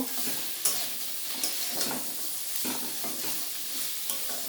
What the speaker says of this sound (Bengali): এবার ভেজে রাখা মাছের মাথাটা দিয়ে দেবো, দিয়ে মশলার সঙ্গে বেশ ভালোভাবে কষিয়ে নেব।